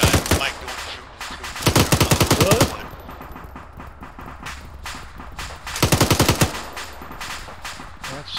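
Rapid machine gun fire in a tank combat video game, two long rattling bursts of loud close shots separated by a quieter stretch of low rumble and faint background noise.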